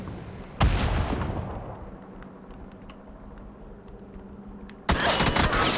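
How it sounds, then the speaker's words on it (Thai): Two loud grenade blasts in the PUBG video game, each a sudden booming burst with a lingering rumble, roughly four seconds apart against a low background hum, with no talking. "ดึงระเบิดไม่ยั้งระเบิดไง"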